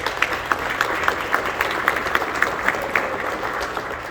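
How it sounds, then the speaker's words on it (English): An audience at a conference gathering in Augusta, Georgia applauds in a steady, moderately loud round, with individual claps standing out over a continuous patter that holds throughout. "you should applaud yourselves and each other right here and now"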